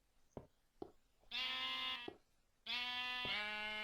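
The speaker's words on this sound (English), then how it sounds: "Kill the sheep." A Minecraft sheep bleats twice in a row, each cry a long buzzy tone, with a couple of soft thumps just before, in a quiet video game scene.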